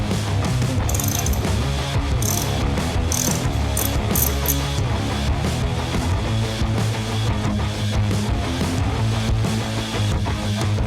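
Ratcheting and clicking of a tool loosening the right-side handlebar control clamp on a Harley-Davidson Iron 883, a steady run of close mechanical clicks with a low hum underneath and no talking.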